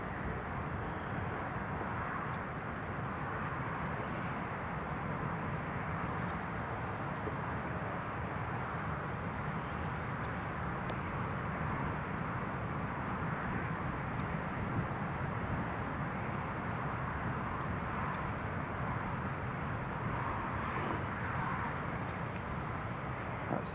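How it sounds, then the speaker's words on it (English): Jet2 airliner being towed onto its stand at Newcastle Airport, a steady broadband engine and ground-equipment rumble that holds evenly throughout, fairly loud and continuous with no talk over it. "That's Jet2 just being towed in onto stand."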